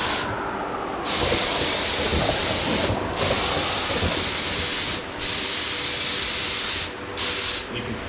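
An air-powered spray gun fed through a hose blasts in loud, close bursts of hissing spray, four or five long pulses cut by short pauses, with no talk.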